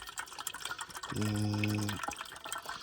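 Water running from a tap into a camping kettle at a wild camp, a steady filling rush lasting under a second with a rising tone, with quiet outdoor background before and after.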